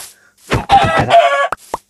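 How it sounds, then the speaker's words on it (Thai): A Minecraft chicken gives a short burst of clucking calls, close and clear, in a quick broken rhythm with nothing else behind it. "เฮ้ยไก่นั่นมันไก่ป๊อกป๊อกป๊อกป๊อก ป๊อกกูเกลียดเสียงมึงว่ะ"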